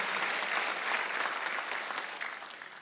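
A church congregation at a Wednesday worship service claps steadily in sustained applause, a dense rattle of many hands that fades slightly toward the end.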